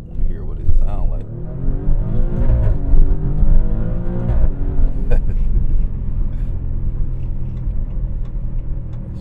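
A 2023 Maserati Grecale Trofeo SUV's engine revs in manual mode, a loud close rumble that climbs and falls with quick shifts and a downshift, steady throughout with someone talking over it.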